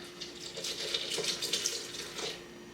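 Water is poured into a drink, a light, splashy trickle that runs steadily for a few seconds at close range.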